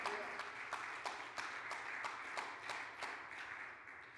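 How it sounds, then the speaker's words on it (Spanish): A church congregation claps together as an offering of praise to the Lord, with steady rhythmic applause of sharp, regular beats, medium-distant and filling the room. "De esa ofrenda de palmas al Señor."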